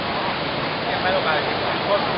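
Haew Suwat waterfall in Khao Yai roars as a steady, loud, broadband rush of falling water that fills the whole moment without pause.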